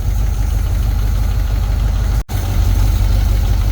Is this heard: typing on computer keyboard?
no